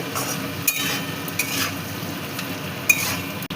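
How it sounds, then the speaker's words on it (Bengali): Fried potatoes being stirred in a pan with salt and turmeric for a Bengali vegetarian soybean and potato curry, giving a steady close scraping and stirring with faint sizzling and a few light utensil clinks, no talking. "এবার দিয়ে দিচ্ছি এর মধ্যে পরিমাণ মতো লবণ হলুদ এবার মিশিয়ে নিচ্ছি ভালো করে"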